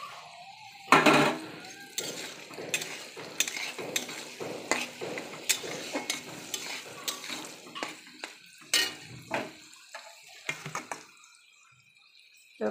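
Cashews, raisins and fried vegetables are stirred in a pan for fried rice, with sharp intermittent spatula scrapes and clatters over a faint sizzle, close by and with long pauses between strokes.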